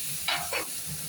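Eggplant pieces dropped into hot oil for a Bengali eggplant and hilsa curry with kalonji, giving two short bursts of sizzle over a steady low frying hiss.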